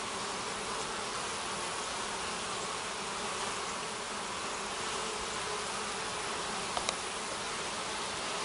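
Honeybees in a busy brood box hum in a steady, dense buzz that fills the whole stretch, close and even, with no voices.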